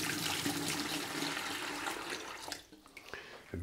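Water poured out of a houseplant pot, a steady splashing gush that runs loud for about two and a half seconds, then breaks off into a few scattered drips and trickles.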